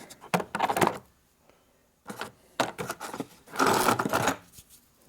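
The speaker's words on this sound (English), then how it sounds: "And that will go right there over that and grind that seat away." A valve seat in a 1990s Harley-Davidson Sportster 1200 cylinder head is ground down, producing several short bursts of close, gritty grinding separated by brief pauses.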